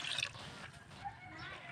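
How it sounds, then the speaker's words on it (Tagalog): Water poured into a cooking pot for kinamatisang bangus, a faint, brief splashing trickle with a soft liquid gurgle, quiet and close, fading toward the end. "Ayan, lagyan muna natin ng tubig."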